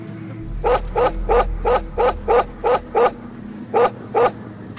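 A dog in Metal Gear Solid V barks in a steady run of about a dozen sharp, evenly spaced barks, fairly close and loud over a low background hum, with a brief pause before the last two.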